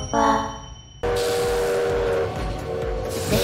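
Train rolling in the video game Lobotomy Corporation, a loud steady rumble with tonal whistle-like bands that kicks in abruptly after a quieter tonal opening and continues without talk.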